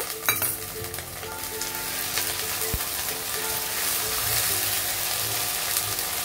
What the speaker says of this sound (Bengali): এখন আমি 2 চামচ আদা রসুন বাটা দিয়ে দিলাম, দিয়ে মশলাটা ভালো করে কষিয়ে নেব